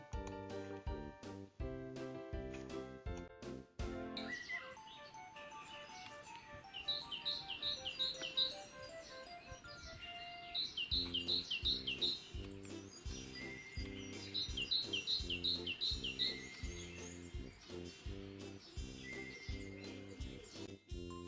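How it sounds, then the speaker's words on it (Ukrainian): A common starling sings a busy, varied song of repeated chirps, clicks and whistled trills, with rapid bursts of high notes recurring throughout, close and fairly loud over a steady run of about twenty seconds. "А давайте послухаємо, як він співає."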